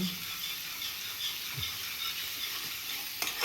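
Vegetables, including eggplant pieces, being stirred in a hot cooking pan, with a steady frying sizzle and soft scraping of the spoon against the pan, fairly close and continuing throughout with no talk.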